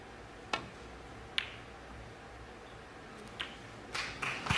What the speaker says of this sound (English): A few claps in the audience, but he didn't want that at all.